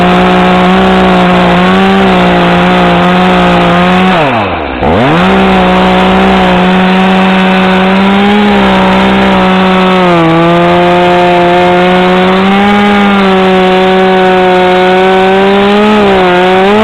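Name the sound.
chainsaw cutting a log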